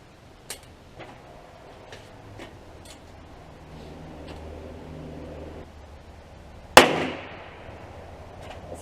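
.38 Special revolver fired at a paper target, one sharp, loud gunshot with a short ringing tail, preceded by a few faint clicks and handling ticks against quiet background noise.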